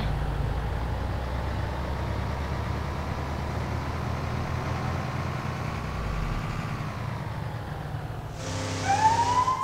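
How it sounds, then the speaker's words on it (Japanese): A police car siren wails steadily over a vehicle's idling engine in LEGO City Undercover, loud and continuous, with a brighter siren burst near the end. "あ、警察車両"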